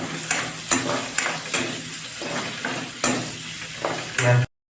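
Onion frying in a pan for a chicken and taro curry, with a steady loud sizzle and periodic scraping stir strokes, close up, with no one talking.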